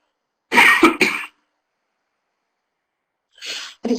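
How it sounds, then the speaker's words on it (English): Two coughs: a quick pair in close succession, then a short pause and a second brief burst at the end, up close and fairly loud. "Excuse me while I cough."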